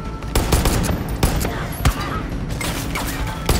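Loud, close bursts of automatic gunfire in Far Cry 5 rattle for nearly four seconds, punctuated by a few sharper heavy shots that stand out from the stream.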